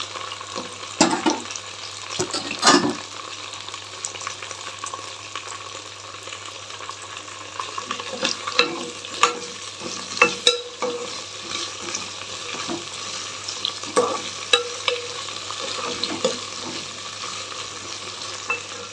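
Okra fries in a pan with spices and rock salt, giving a soft steady sizzle broken by repeated scraping and stirring clatters.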